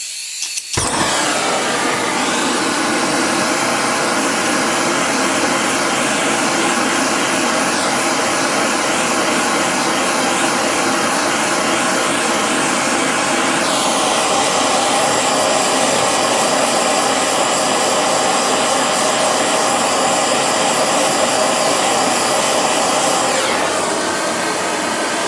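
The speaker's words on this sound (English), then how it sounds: "I've got a blowtorch that I use when I need to do that" Blowtorch flame roars steadily and loudly for a long stretch while drying out a clay coil vessel, a harsh continuous hiss that shifts slightly partway through.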